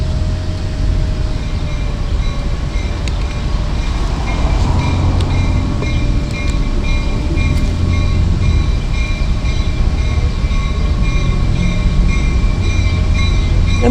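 A Long Island Rail Road train led by MP15AC diesel locomotives passes at Pinelawn, a loud steady rumble of engines and rolling wheels filling the whole stretch with no talking over it.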